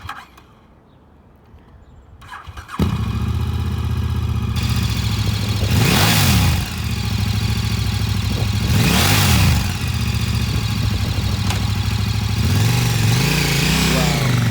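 A used 2015 KTM 1190 Adventure sport touring motorcycle starts up after a quiet moment and settles into a steady idle, with several loud rising-and-falling throttle revs spaced a few seconds apart.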